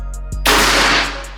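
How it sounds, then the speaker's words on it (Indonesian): Sharp report from an unsuppressed PCP air rifle, an SR Legacy 700 cc with a composite tank, fired once nearby, with a broad burst of noise that lingers briefly before fading. "Langsung aja kita mulai di tembakan yang pertama. Ini kita tanpa peredam ya guys."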